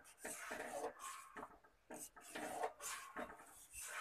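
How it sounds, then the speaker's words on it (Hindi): A spoon repeatedly scrapes and clinks against a pot while cornflour slurry is stirred into boiling soup for soup momos, in a rhythmic series of close, fairly quiet strokes. "थोड़ा सा स्टर करेंगे।"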